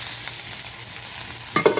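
Pork is stirred into simmering coconut milk for laing, a soft bubbling sizzle with a few wet stirring clanks near the end, close and without voices.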